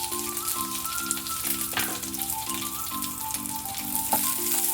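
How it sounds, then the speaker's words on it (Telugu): Garlic and dried red chillies frying in hot oil in a pan, a steady close sizzle and crackle throughout, with a faint tonal hum underneath. "ఆయిల్ వేడైందండి. ఇప్పుడు వెల్లుల్లి వేసుకోవాలి. ఇప్పుడు ఎండుమిర్చి,"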